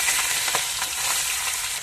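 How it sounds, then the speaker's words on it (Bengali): Singh fish (stinging catfish) fries in hot oil in a pan, a loud, continuous close-up sizzle with crackling pops throughout. "কথা বলতে একটা মাছটা ভাজা হয়েই গেল"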